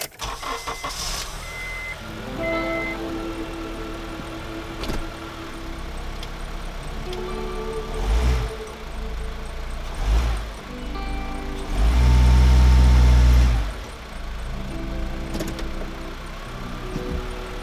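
Honda car engine started up and left running after new engine mounts were fitted, a steady low idle heard close by with a few louder surges near the middle and end.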